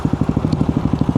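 A motorcycle engine chugs in a rapid, even pulsing rhythm near and fairly loud, revving during a wheelie attempt.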